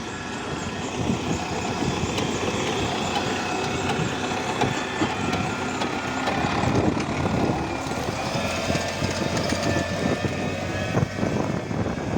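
A seeder sowing sunflower by direct seeding into stubble rolls through a field, with a steady, loud rumble of engine and machinery, a constant rattling drone close by and no voices.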